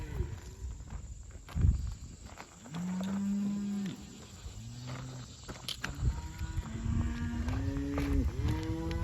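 Several cattle in a grazing herd moo near a pond dam, some long and low, others shorter, over faint footsteps and rustling outdoors.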